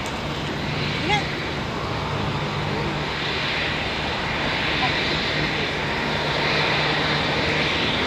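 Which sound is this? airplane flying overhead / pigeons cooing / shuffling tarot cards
airplane flying overhead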